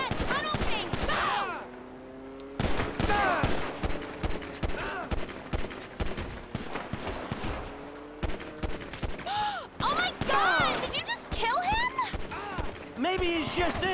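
Video game gunfire from Grand Theft Auto V, with dense automatic bursts and repeated shots running almost continuously under overlapping in-game voices and talk.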